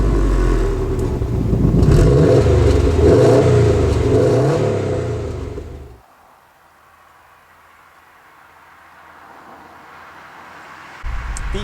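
A 2017 Subaru WRX STI's 2.5-litre twin-scroll flat-four petrol engine revs hard and climbs loudly for several seconds, then drops away to a faint idle before rising again briefly at the end.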